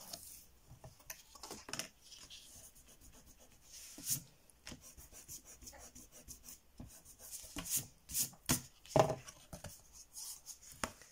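A pencil rubbing across paper draws a line 13 cm from the edge in a scrapbook album page, a faint scratchy stroke with soft rustles and small taps, a few louder scrapes near the end.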